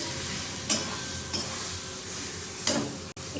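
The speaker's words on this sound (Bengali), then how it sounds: "অল্প একটু তেল দিয়েছি, কড়াইটাকে ভালো করে গরম করেছি। এটাকে শুকাবো ভালো করে।" Food fries in a little oil in a hot kadai, a soft steady sizzle broken by a few scraping strokes of a spatula against the pan, close but fairly quiet, with no voices.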